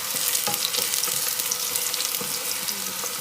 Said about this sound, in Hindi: कड़ी पत्ता भी डाल देती हूँ